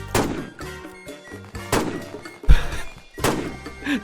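Sniper rifle shots from an AW rifle in a Roblox shooting game, three sharp loud reports spaced roughly a second apart, each with a short echoing tail over faint game background.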